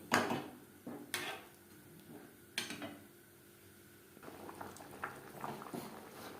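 Potatoes and cauliflower simmering in a Bengali rui fish curry with panch phoron: faint bubbling and soft liquid patter, with a few sharp clinks and knocks of utensils against the pot, no talking.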